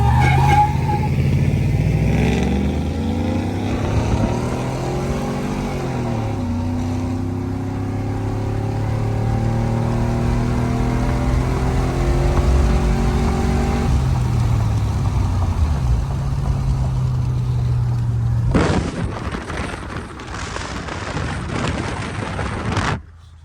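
A Chevrolet Silverado truck with a Norris cam revs hard, its engine pitch sweeping up and down in repeated surges with a choppy, lumpy idle between pulls, loud and close, ending in a burst of broadband roar before cutting off.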